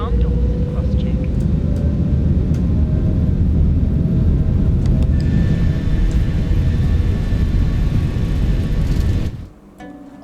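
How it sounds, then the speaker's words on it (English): Airliner jet engines in Microsoft Flight Simulator 2024 roar steadily at full power, a loud broad rumble with a rising whine, cutting off abruptly near the end. "I just want to show you how this sounds when you spool up the engines"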